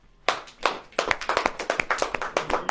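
A church congregation bursts into applause, starting with a few scattered claps and quickly building into dense, uneven clapping from many hands nearby.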